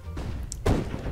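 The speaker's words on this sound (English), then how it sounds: "I'm throwing a flashbang" A flashbang grenade is thrown in CS:GO: a brief electronic blip, then one dull, fairly loud thud near the end, over steady background game noise.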